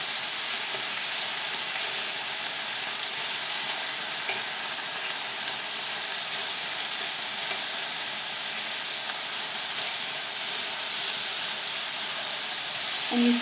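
Thinly sliced Korean-style beef sizzles hard in a hot pan, a dense, steady frying hiss that runs on without pause, close and loud, with only a brief clatter near the end.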